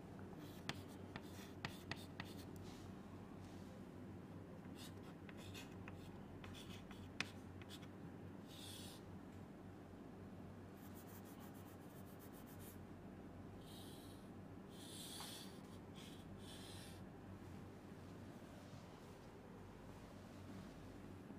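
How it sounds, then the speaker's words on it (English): A pen or pencil scratches across paper while a circuit diagram is drawn by hand, faint intermittent strokes and taps over a steady low background hum. "only I am drawing this"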